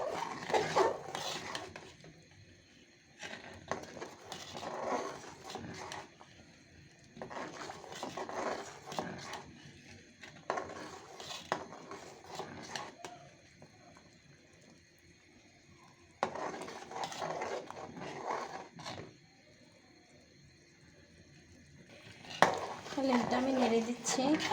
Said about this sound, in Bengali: হালিমটা আমি নেড়ে দিচ্ছি।